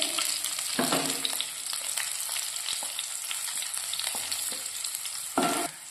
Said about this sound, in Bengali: মশলাটা দেখুন ভাজা ভাজা হয়ে গেছে।